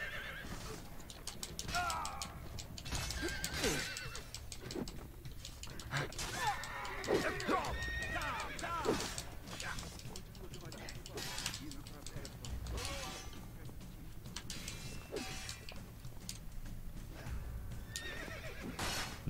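A horse whinnying and clopping along in Assassin's Creed: Brotherhood, the neighs and hoofbeats mixed with scattered mechanical game effects while someone talks over much of it.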